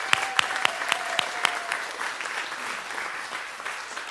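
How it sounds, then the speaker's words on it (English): A congregation at a choir service applauds, opening with several sharp, distinct claps that soon blend into a softer, continuous patter of many hands, steady and close. "Can we give a round of applause for Marcus for stepping up?"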